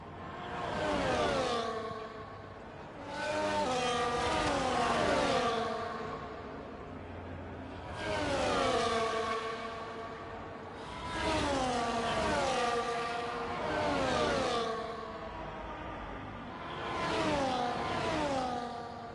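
Racing cars, including a McLaren, lapping the Japan circuit in a racing video game: high-pitched engines rise and fall in repeated passes, revving up and shifting through gears, loud and close with no talking.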